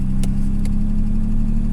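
A close, loud 1983 Mercedes-Benz W123 250 engine idling with a steady low rumble and a couple of faint clicks, the rough diesel chug continuing without a break.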